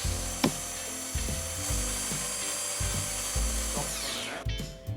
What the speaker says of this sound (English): I then took a drill to it and carefully, using a 6mm drill bit, drilled out the holes